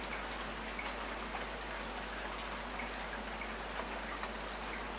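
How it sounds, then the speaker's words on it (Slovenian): Steady rain patters on a surface, a soft continuous hiss of drops with faint scattered taps, alone and fairly quiet throughout. "Škrebljanje dežja"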